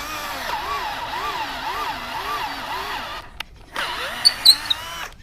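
An electric drill bores into the wooden seat of a spindle short stool resting on a table, giving a steady, wavering whine for about three seconds before it stops and a few short, sharp bursts follow.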